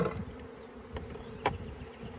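Honeybees buzzing inside a shipping package during installation into a hive, a steady close insect drone with a few louder passes standing out.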